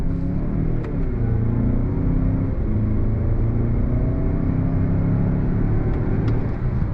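Steady engine rumble and road noise from a 2022 Mazda CX-9 accelerating in first gear, a continuous low drone heard from inside the cabin, alone without talk.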